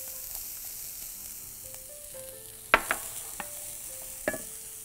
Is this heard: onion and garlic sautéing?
yes